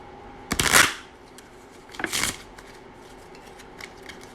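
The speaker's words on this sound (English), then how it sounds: "I'm going to shuffle the cards." Two brisk riffles of playing cards being shuffled, a couple of seconds apart, close and crisp against a quiet room.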